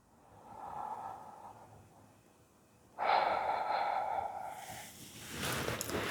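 Slow deep breaths during a gentle yoga session, a soft inhale followed by a longer, stronger exhale through the nose and mouth, close and quiet without speech.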